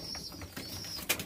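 Pigeons cooing inside their loft coop, soft low murmurs with a faint thin whistle above, ending in a brief louder flutter near the end.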